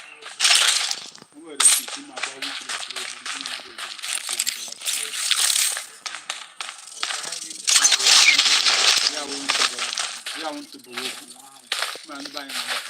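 Video game gunfire crackles in sharp, repeated bursts of close shots and clattering impacts, dense around the start and again midway, mixed with voices talking over the action in a match with a shrinking safe zone.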